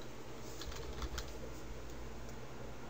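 Faint, rapid clicking of keys on a computer keyboard, a few quick soft taps heard in a quiet room with no talking.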